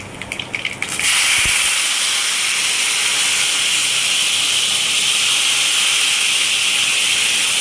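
Drumsticks dropped into a hot pan of oil with dried red chillies burst into a loud, steady sizzle and hiss after a brief clatter, holding strong and close for several seconds with no talking.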